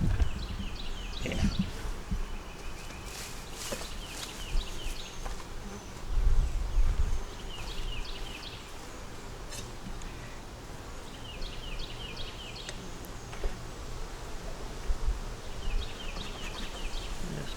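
Continuous buzzing of many honey bees close by at an open hive, with occasional bumps and handling noises, steady throughout with no speech.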